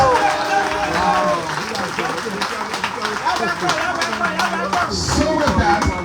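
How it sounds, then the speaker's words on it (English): A ceremony audience gives a sustained round of applause for an incoming director general, dense clapping with crowd voices mixed in, steady and fairly loud throughout. "Please give them a big hand of applause."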